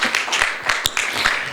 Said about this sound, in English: Shall we clap our hand and say thank you, Lord?